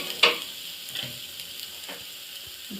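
Hakka noodle ingredients are stirred and fried in a pan, with a sharp utensil clink at the start, then a few softer scrapes over a faint, low sizzle.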